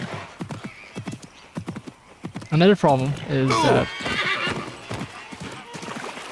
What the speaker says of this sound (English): in AC Shadows pressing down is summoning horses.